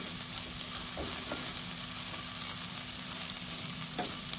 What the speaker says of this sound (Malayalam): നമുക്കിനി ഇത് നന്നായിട്ടൊന്ന് ഇളക്കി യോജിപ്പിച്ചിട്ട് അടച്ച് വെച്ച് ലോ ഫ്ലെയിമിലിട്ട് കുക്ക് ചെയ്തെടുക്കാം